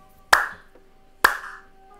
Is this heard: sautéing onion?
no